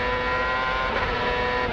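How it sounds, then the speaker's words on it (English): Onboard sound of a race car engine at sustained high revs on track, a loud steady whining drone held throughout without talk. "let's listen to the engine now."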